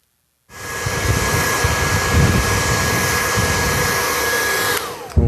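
A hair dryer aimed at a mustache switches on after a brief silence and runs with a loud, constant airy roar and a steady high whine, then cuts off near the end.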